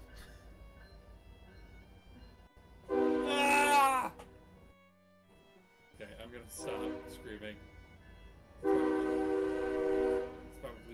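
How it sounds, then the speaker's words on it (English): Train horn blasts from the video game Omori, two long loud bursts separated by quieter passages, with a person speaking and yelling between them. "It's okay, it's just the Omori train."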